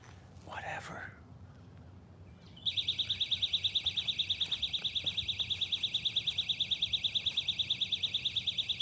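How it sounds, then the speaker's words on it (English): Fishing rod bite alarm sounding in a rapid, steady electronic beeping pulse that runs continuously and loud for several seconds, after a brief faint voice and rustle outdoors. "Every time I hear that alarm go off, it gets my hopes up."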